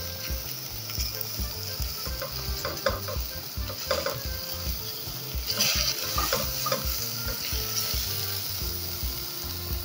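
Garlic frying in a spoonful of olive oil or cooking oil before rice goes in, a lively close sizzle with rhythmic scraping and stirring knocks against the pan.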